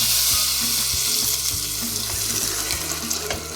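Hot curry leaf tempering hisses as it is poured into drumstick kuzhambu and stirred, a loud continuous sizzle with bubbling liquid and the rhythmic scrape of a spoon against the pot.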